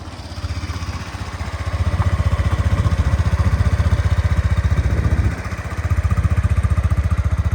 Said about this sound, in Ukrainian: Приємний такий басистий вихлоп у N-Max взагалі.